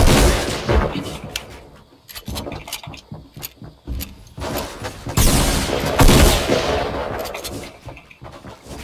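Rapid bursts of gunfire ring out in a Fortnite match, dense clusters of shots with short pauses between volleys, loud and close.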